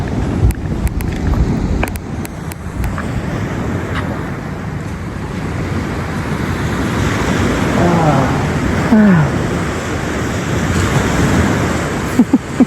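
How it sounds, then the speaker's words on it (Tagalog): Sea surf rolls continuously onto a beach of fine sand mixed with small stones, a broad steady wash of moderate loudness with wind buffeting the microphone and brief voices over it. "Paparinig ko sa inyo kung ano yung tunog ng dagat."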